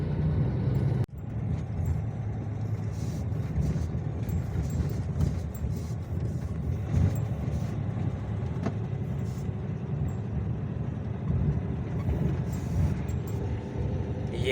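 A car on a badly broken regional road on the way to Yakutsk rolls along with a continuous low rumble, occasional knocks and rattles riding over it, and a sharp jolt near the start.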